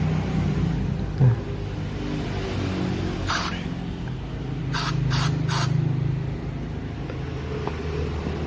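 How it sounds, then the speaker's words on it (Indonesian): Aerosol cleaner is sprayed into the throttle body of a Daihatsu Taruna EFI in four short hissing bursts, one longer and then three quick ones, over a steady low mechanical hum. "ada lubangnya kita semprot semua"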